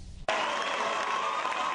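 A large crowd at an amateur boxing match in the Cayman Islands bursts into loud, sustained cheering and applause after a brief lead-in.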